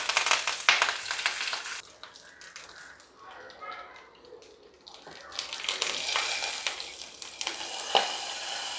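Oil sizzles and crackles as mustard seeds, urad dal and curry leaves hit the pan for a tempering, a loud hissing burst that fades briefly then surges again, with a voice faintly underneath.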